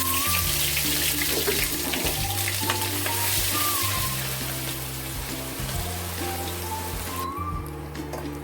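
Curry leaves and masala fry in hot oil for a chickpea curry, a loud, steady close sizzle with occasional spoon stirs, easing slightly toward the end.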